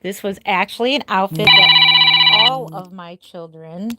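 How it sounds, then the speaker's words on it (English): A mobile phone ringing indoors in a nursery, a steady electronic ringtone tone lasting about a second under and between a woman's ongoing speech. "Sorry, if you heard my phone ring,"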